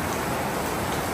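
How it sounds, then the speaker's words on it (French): Steady dense hiss of heavy rain pouring onto a roof under renovation, continuous and loud throughout with no individual drops standing out. "Il y a trop de pluie."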